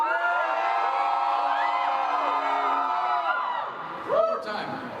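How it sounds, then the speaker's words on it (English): A packed room of convention panel attendees screams and whoops loudly together in a sustained chaotic roar that tapers off near the end, with shouting voices mixed throughout. "For that one, scream as loud as you can."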